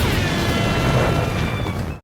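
Fireworks at a DJ event, boosted with extra gas, go off in a loud, broad roaring blast that holds for about two seconds and then cuts off sharply.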